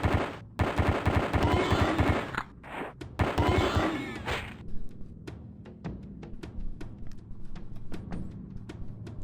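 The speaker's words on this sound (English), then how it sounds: "Especially when you're trying to use these weak-ass projectile grenades." Projectile grenades firing in the game Pathways Into Darkness, dense rapid bursts of shots early on that give way to a sparse string of sharp single cracks, loud and close, with no talking.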